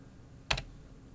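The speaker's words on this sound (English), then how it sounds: "Then you press Enter or Shift Return." A single computer keyboard key press, a quick crisp double click close up, standing alone in a quiet room.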